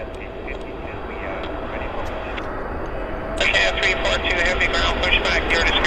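An Air Canada plane landing at Vancouver airport sends a steady jet rumble with a high whine, heard from a distance, and the roar swells partway through as reverse thrust builds. Voices talk over it.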